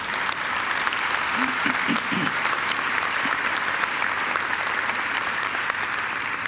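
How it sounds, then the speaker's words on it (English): A large graduation ceremony audience at Macquarie University applauds in a hall, a broad, even wash of clapping that holds steady throughout, with a brief voice heard early on. "I think he deserves another great round of applause."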